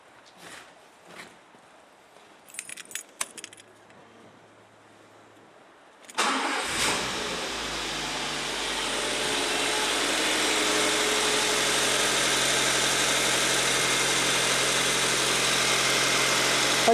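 A 2003 Honda Civic 1.4 petrol engine cranks and catches after a few quiet clicks, then settles into a steady, loud, close idle that runs unbroken for over ten seconds with no talking.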